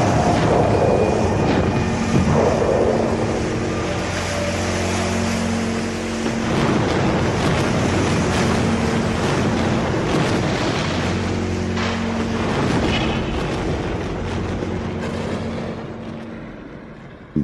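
Floodwater surges downstream toward a dam, a dense, continuous roar of rushing water with a low rumble underneath that holds steady and then slowly fades.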